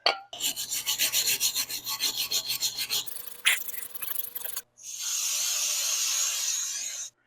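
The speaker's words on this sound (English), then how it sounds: "Little brake clean, wire brush. Clean this up." A wire brush scrubs rear brake parts on a Jetta TDI with fast, rhythmic, close scratching strokes, then a steadier continuous hiss of scrubbing, alone without talk.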